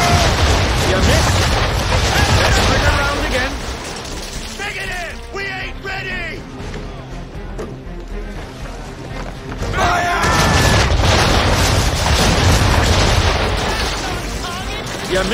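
Ship cannons boom in a naval battle in Assassin's Creed III, heavy blasts firing in bursts with rumbling low-end, a quieter lull in the middle, then another loud barrage; shouted voices cut through between shots.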